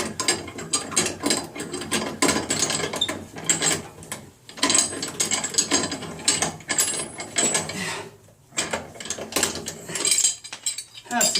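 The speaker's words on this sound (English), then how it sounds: "Now I'm just going to unscrew this one the proper way." Ratcheting clicks and metallic rattles of a tool unscrewing fasteners on a Street Fighter 3 arcade cabinet, close and busy in irregular bursts with short pauses.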